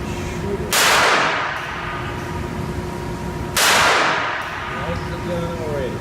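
Two sharp handgun shots at a shooting range, a few seconds apart, each a loud close crack with a brief ringing decay, over quiet background.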